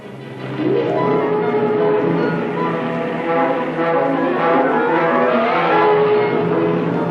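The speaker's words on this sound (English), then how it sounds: "a rolling of tanks, a rumble of motorcycles" A loud, continuous mechanical rumble with rising and falling whining tones of tanks rolling and motorcycles revving close by.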